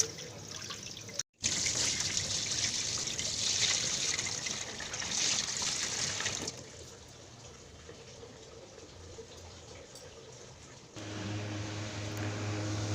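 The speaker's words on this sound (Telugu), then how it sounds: "మనం ఒకసారి వాటర్ పోసి చెక్ చేసుకున్నాము వాటర్ లీకేజ్ ఉందా లేదా అని" Water is poured into a renovated air cooler to test it for leaks. A splashing, trickling flow comes in uneven stretches, with a brief cut and quieter dribbling toward the end.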